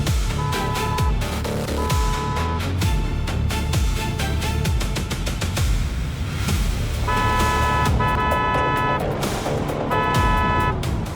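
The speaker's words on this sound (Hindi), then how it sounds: "प्लीज गाड़ी की स्पीड कम करो।" A fast-moving car rushes along with a constant loud engine and road roar while its horn sounds in repeated short toots and longer blasts, sometimes in clusters, with traffic noise throughout.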